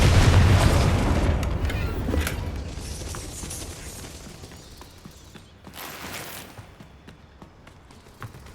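A Confringo fire spell bursts in Hogwarts Legacy with a heavy boom at the start that rolls off into a long fading rumble, followed by a smaller pop and light mechanical clicks.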